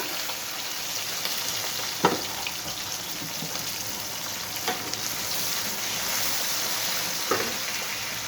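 Chopped onion and green chillies fry in hot oil in a pan, giving a continuous even sizzle with a few sharp clinks of a spoon against the pan.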